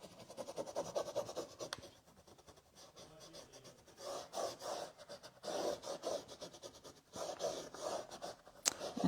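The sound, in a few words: rubbing a stencil transfer onto a tic tac toe board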